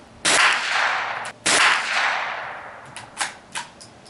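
A Mossberg 802 Plinkster rifle fires two loud, sharp shots about a second apart while shooting for groups, each with a ringing decay, followed by a few fainter, quicker clicks and pops.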